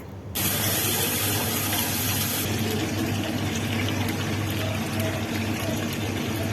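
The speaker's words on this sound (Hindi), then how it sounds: "अब प्याज को हल्का गोल्डन होने तक फ्राई कर लेंगे।" Sliced onions with whole garam masala sizzling in a hot pan in a home kitchen, a loud steady hiss that starts abruptly and holds without a break, no talking.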